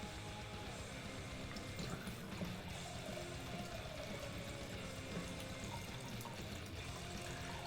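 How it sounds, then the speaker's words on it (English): Cider pours into a glass with a continuous watery trickle and splash, close and fairly steady throughout, with no talk. "what you can hear is not me urinating, it is me pouring another cider"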